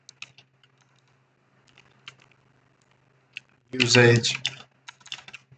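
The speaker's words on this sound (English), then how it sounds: "Just simply type in explain the code" Typing on a computer keyboard, with sparse, irregular keystroke clicks spread through the clip and a short burst of speech near the middle.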